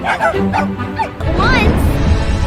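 Dog barks and yips from a video game trailer, several short barks in the first second over game music and effects, followed by a louder swell of noise and a voice speaking.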